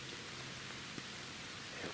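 Steady rain falls outdoors in the woods during deer season, a faint, even hiss of drops on surfaces with an occasional louder patter, continuous and without voices.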